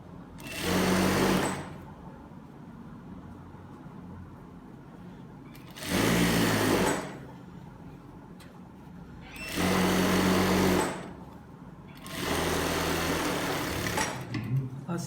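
Sewing machine stitching the elastic waistband of trousers, four bursts of fast, buzzing mechanical whirring of about a second or two each, separated by quiet pauses with faint handling noises.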